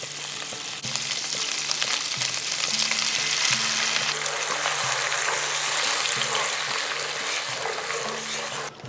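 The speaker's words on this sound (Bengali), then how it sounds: "তিরিশ সেকেন্ডের মতন এটাকে ভেজে নিয়েছি।" Bata fish frying in a pan gives a continuous, close, dense sizzle and crackle at an even level, with a low steady hum beneath and no voices.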